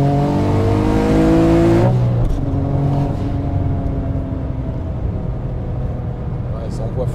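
A Porsche 9FF of 1400 horsepower accelerates hard on an unrestricted road, its engine note climbing loud and close, then dropping after a shift into a lower steady drone.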